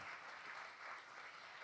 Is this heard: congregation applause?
yes